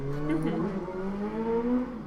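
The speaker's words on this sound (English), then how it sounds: "so apologies for the traffic noise." Street traffic drifts in through open apartment windows, a car engine droning and shifting pitch as it revs and passes, moderately loud and continuous.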